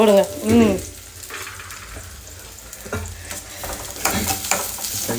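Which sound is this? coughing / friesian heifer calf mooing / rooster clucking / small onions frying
small onions frying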